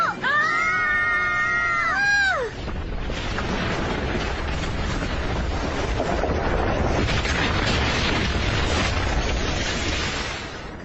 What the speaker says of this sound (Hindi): धमाका कैसे हुआ डोरेमोन?